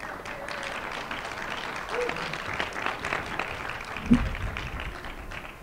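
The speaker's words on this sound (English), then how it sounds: "Please give him a round of applause." Audience applause for a congressman at a political organizing conference, fairly faint and steady clapping with a few louder taps and murmurs in the room.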